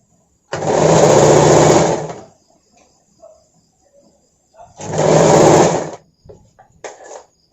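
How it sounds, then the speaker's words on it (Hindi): Electric sewing machine stitching the side seam of a katori-cut blouse, running in two loud steady bursts of about one and a half seconds each, with quiet fabric handling and a brief whir between. "हम पहले इस तरह से किनारे से सिलाई कर लूँगी।"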